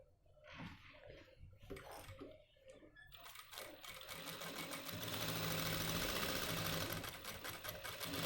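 A sewing machine stitches the pockets of a Nehru-style jacket, its motor rising into a steady, continuous whir after some irregular handling noises at the start.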